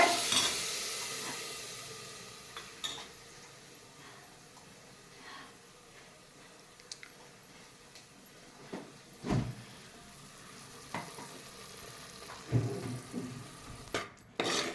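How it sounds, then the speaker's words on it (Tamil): Hot ghee sizzles loudly in a pan as it is poured in for tempering, then settles into a softer steady frying hiss, punctuated by occasional clinks of a utensil stirring. "இதை தாளிக்கிறதுக்கு ஊற்றுறோம். மேலே தெரிக்காத ஊற்றிக்கோங்க."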